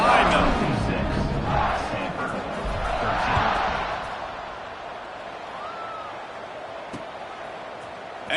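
Stadium crowd in College Football 26, a broad roar swelling and fading in waves beneath a commentator's voice, settling into steady background murmur.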